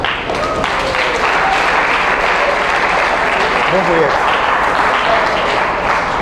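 Sustained audience applause at a youth event in Nigeria, dense and steady throughout, with a voice speaking briefly over the clapping.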